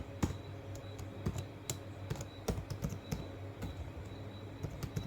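Java code is typed on a computer keyboard, a close, uneven run of crisp key clicks with short pauses between bursts.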